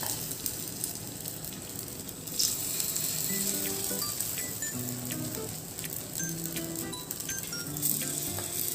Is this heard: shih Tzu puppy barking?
no